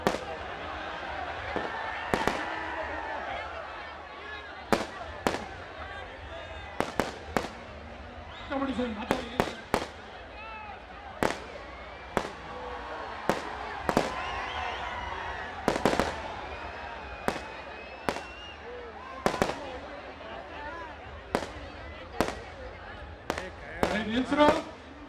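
Firecrackers burst repeatedly at the Karaga festival, sharp loud cracks arriving at irregular intervals, sometimes in quick pairs, over a steady crowd murmur and people talking.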